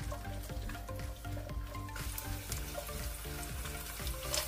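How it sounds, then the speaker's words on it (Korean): Sliced garlic sizzles steadily in two tablespoons of cooking oil in a preheated pan over medium heat, with a continuous frying crackle under a rhythmic musical backing. "예열된 팬에 식용유 2큰술을 두르고 편마늘을 넣고 중불에서 볶아주세요."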